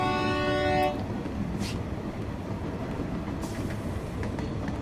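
A moving train in the Train Valley video game, steady rolling rumble throughout, with a tonal horn-like blast at the start that cuts off after about a second.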